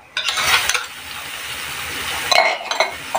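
Onions dropped into a pan of hot oil with garlic-chili paste, bursting into a loud steady sizzle, with metallic scrapes and clinks of a spoon stirring close by.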